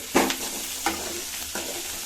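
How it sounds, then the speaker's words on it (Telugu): Tomatoes stirred into vegetables cooking in a pan for veg upma give a low sizzle broken by three distinct scraping spoon strokes, close and fairly quiet. "టమాటా వేసుకొని మళ్ళీ కాసేపు కలిపి మూత పెట్టి మగ్గనివ్వాలి."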